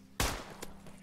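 A single sharp gunshot cracks loudly in the video game Decaying Winter, followed by a fainter second report and low background hum.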